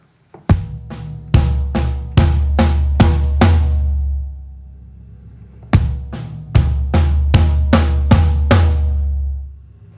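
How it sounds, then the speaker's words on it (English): Slow eighth-note fill on floor tom and snare over quarter-note bass drum, rising from soft to louder, played in two clear phrases of evenly spaced, ringing drum hits with a short gap between them. "we're going to basically play 8 notes on the floor tom and the snare at a low dynamic range"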